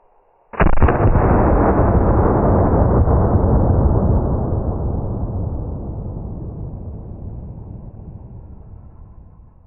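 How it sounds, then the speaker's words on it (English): An HK P2A1 flare pistol fires a buckshot shotgun shell outdoors, giving one sudden, very loud blast whose rumbling echo rolls on and slowly fades over several seconds. "That's the most powerful one we've shot all day, for sure."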